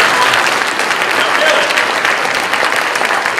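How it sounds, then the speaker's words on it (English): Loud, dense applause from an audience at an illusionist's stage show, a steady wash of many hands clapping close and continuous throughout. "A round of applause for Billy."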